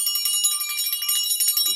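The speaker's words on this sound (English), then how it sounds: "We're going to lock that in with a bell ring." A single bright bell rings clearly and keeps shimmering with a steady, sustained high tone, close and alone.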